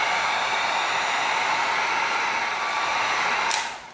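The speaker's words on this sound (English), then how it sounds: "We're going to get our heat gun cranking and we're going to open up that cut with heat." Heat gun blowing hot air onto cut EVA foam, a steady loud fan-like whoosh that runs evenly before cutting off abruptly near the end.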